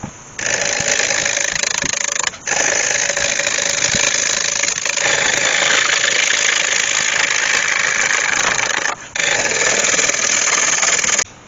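A steady, loud motorized whir from a wood lathe spinning a beech bowl blank at about 100 rpm runs almost continuously, with two brief dips where the machine pauses before resuming.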